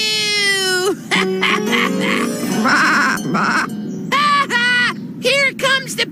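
A cartoon goat in a children's animated series bleats in several wavering, nasal cries, loud and close, broken by short gaps and mixed with brief bursts of voice.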